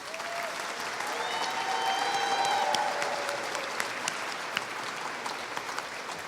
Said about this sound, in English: We want to make sure that we give a special round of applause to all of our speakers.